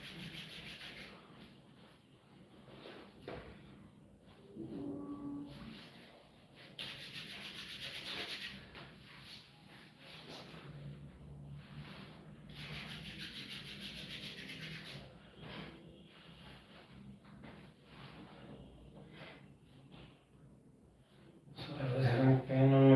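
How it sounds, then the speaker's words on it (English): Palms rub together during a yoga class, making a dry, continuous swishing friction that repeats in long strokes, fairly close and quiet, before a louder rustle at the end. "You can rub your hands again and again."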